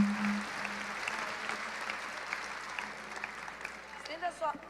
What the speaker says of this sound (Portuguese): Eu quero que você aplauda a Jesus por essa palavra.